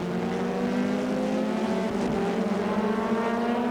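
Race cars circle the long right-hand Luffield corner, a sustained, droning engine roar at moderate distance with steady pitch and no break.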